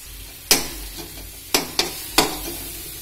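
Matar paneer masala being stirred and fried in a kadai: four sharp scraping clacks of a spoon against the pan, spaced irregularly, over a soft background sizzle.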